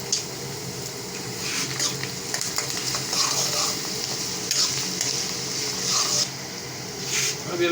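Ginger garlic paste fries in a hot karahi for beef karahi gosht, giving a steady, close, dense sizzle with repeated scraping stirs and occasional metallic spoon clinks throughout.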